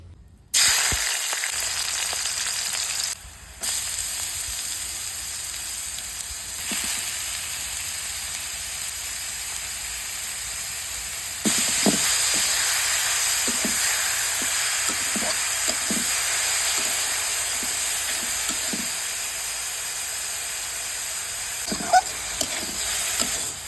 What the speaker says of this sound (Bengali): এগুলোকে আমি ভাজি করব এখন।